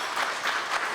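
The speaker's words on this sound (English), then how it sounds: "let's cheer for that" Audience applause with light cheering at a Niagara College signature chef event, a steady dense wash of clapping sustained throughout without a break.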